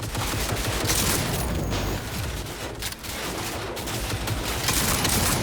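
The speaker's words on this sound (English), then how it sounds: "I feel like this isn't the most efficient way to use a shotgun on a long-range turret, but it's working." Shotgun fire and enemy turret gunfire fill a Cyberpunk 2077 Phantom Liberty firefight, a loud, dense, continuous barrage of overlapping shots and booms with no talk.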